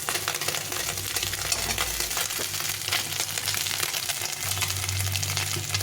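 Small fish fry in a hot wok of oil, a steady close crackle and hiss running throughout with occasional clinks, no talking.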